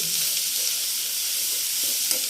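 Onion curry frying in oil in a pan while being stirred, a steady close sizzle with faint scraping strokes throughout.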